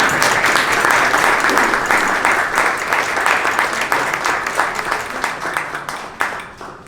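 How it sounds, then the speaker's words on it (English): A big round of audience applause for three authors at a book event, loud and dense clapping from the crowd that gradually thins out and dies down over about seven seconds. "So a big round of applause for our 3 authors."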